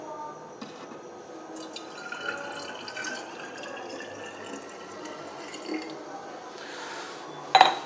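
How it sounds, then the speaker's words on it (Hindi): A glass of water is poured into an opened coffee machine at home, giving a soft, steady splashing trickle that ends with a brief louder clink or splash. "हम इस पानी को इस मशीन में डाल देंगे।"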